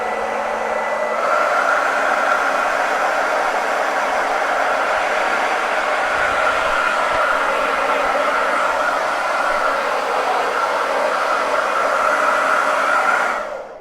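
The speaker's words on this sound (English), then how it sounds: "I'm gonna hit this with a hairdryer." A hair dryer blows continuously at close range over a chalk-decorated wooden board, a loud steady whooshing hum that cuts off abruptly at the end.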